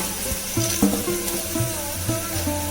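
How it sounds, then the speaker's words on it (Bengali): A broad, steady sizzle of potatoes frying in hot oil, with a low hum and faint clinks underneath. "এবার আলুটা ভেজে নেব"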